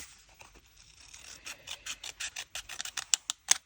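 Scissors snipping through paper to shape a junk journal pocket, a quick run of crisp, close cuts that start soft and grow sharper and more regular, with the last few snips loudest.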